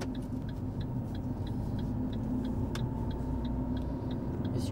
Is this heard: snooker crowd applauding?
no